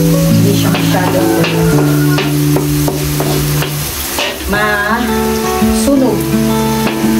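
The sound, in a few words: garlic frying in a pan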